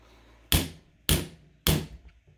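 Three evenly spaced, loud, sharp hammer strikes drive a dovetail sight into place on a pistol slide, each blow ringing briefly with a metallic decay.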